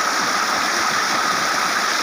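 A strong, constant rush of water gushing from a motor pump into a sugarcane field, loud and close with no pauses or voices.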